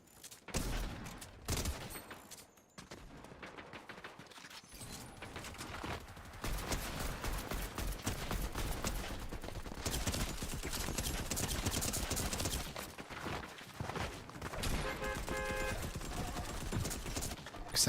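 Fortnite gunfire during gyro aiming, with dense rapid volleys of shots and clattering impacts packed together for the whole stretch, loud and continuous with only brief lulls.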